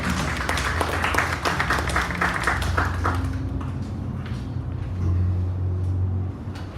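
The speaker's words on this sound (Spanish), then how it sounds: "Recibámoslo con un caluroso aplauso." Warm applause from a seated audience at a geoscience talk on hydrogeology, dense clapping for about three seconds that thins and fades, with a low hum and a few voices and room noise carrying on afterward.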